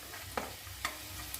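Drumstick pieces sautéing in oil in a pan, a steady close sizzle broken by a couple of brief stirring scrapes, with no one speaking.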